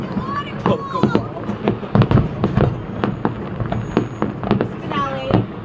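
Canada Day fireworks in Edmonton pop and crackle continuously in a dense, irregular string of bangs, while people talk and chatter over them.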